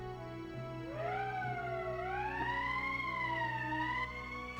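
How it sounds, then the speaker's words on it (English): A wailing emergency siren sounds in the video game Valkyria Chronicles, its tone rising and bending in slow sweeps over a steady background hum, loud and alone. "That's the emergency siren."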